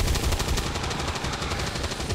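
Rapid, dense automatic gunfire from the turn-based tactics game XCOM 2 rattles continuously and loudly throughout, with no gaps between shots and no talking.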